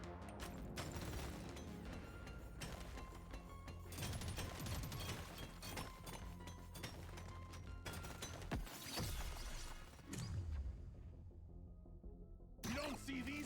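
Gunfire from the gunner in the video game Deep Rock Galactic: Survivor crackles in dense rapid bursts among clattering game effects, loud and sustained, dropping out briefly near the end.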